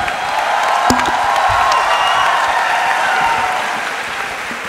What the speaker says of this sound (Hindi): Give a big hand and welcome him with open hearts